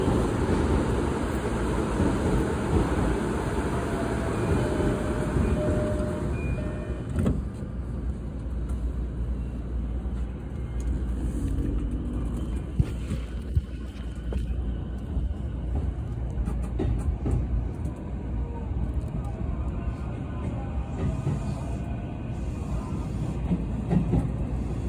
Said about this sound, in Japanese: 8番線にも電車が到着しております。